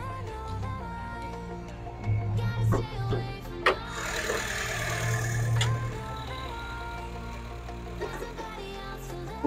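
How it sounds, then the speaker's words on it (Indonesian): A 2014 Honda Mobilio E with a manual transmission idles smoothly and steadily up close under the hood, with a low continuous hum and a few brief clicks and bumps partway through. "Mesinnya langsam, tidak pincang teman-teman."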